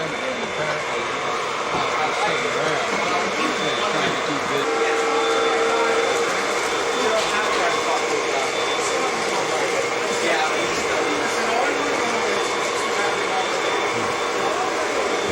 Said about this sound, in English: This Tristan train just went by.